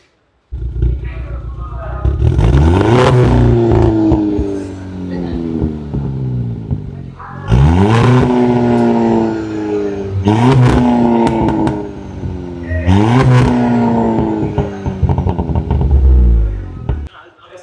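A used automatic car's engine revs hard through its exhaust, three or four loud rising roars with the pitch climbing and falling back between each, close and dominating.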